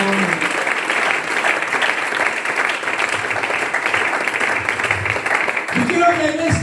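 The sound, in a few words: church congregation applauding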